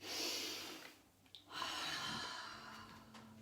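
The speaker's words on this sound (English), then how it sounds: "take 3 nice deep breaths" A few slow, deep breaths, close and soft, with airy inhales and exhales separated by a brief pause in a quiet room during a relaxation session.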